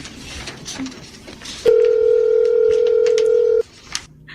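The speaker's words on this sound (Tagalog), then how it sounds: "Sa cellphone ko nga siya tatawagan." Mobile phone call in a Filipino drama scene, with a few short dialing beeps, then a loud, steady single-pitch tone lasting about two seconds before it cuts off abruptly.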